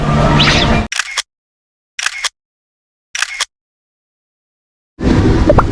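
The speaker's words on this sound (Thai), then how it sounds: "ไปเดี๋ยวเราขอไปถ่ายรูปแชะๆหน่อย" A single-lens reflex camera fires three separate shutter clicks about a second apart at Tokyo DisneySea, with louder crowd and park noise before and after the clicks.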